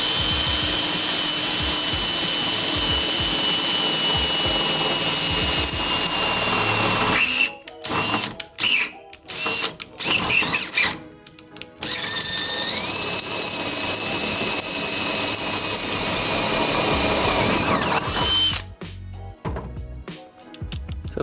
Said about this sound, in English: We'll drill down through the boot.